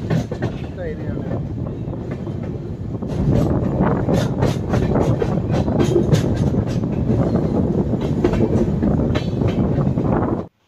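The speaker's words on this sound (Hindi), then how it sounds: "अपनी ट्रेन का डिपार्चर आगरा से भी हो गया है" Chhattisgarh Express pulling out of Agra station, a steady rumbling roll with rhythmic wheel clatter that grows louder and denser after a few seconds, with faint voices mixed underneath throughout.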